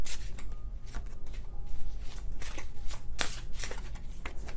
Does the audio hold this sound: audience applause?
no